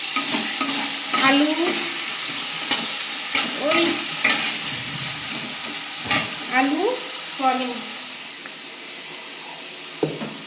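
Potatoes and soy chunks with a little capsicum fry in a pan, a constant sizzle with repeated scraping stirs of a spatula at an uneven rhythm, near and fairly loud, with no speech.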